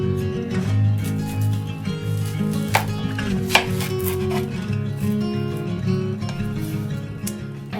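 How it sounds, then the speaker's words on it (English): A knife slices an onion pole to pole on a kitchen cutting board, giving a few close, crisp cuts and rubbing scrapes over a steady background hum. "So now next I want to show you how to properly cut an onion."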